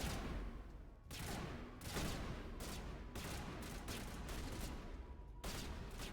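Sustained gunfire in Mass Effect, a loud dense stream of rapid shots broken by brief pauses into several long bursts, close and continuous with no talk.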